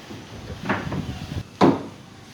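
A drawer is fitted into a custom two-door sliding wardrobe measuring 200 x 60 x 200, with wooden sliding and scraping followed by a sharp knock as it seats into place.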